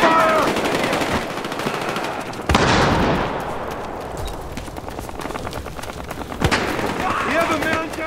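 Heavy automatic gunfire from the video game Battlefield Hardline, rapid loud bursts and sharp shots crackling continuously, with shouted voices over the firefight.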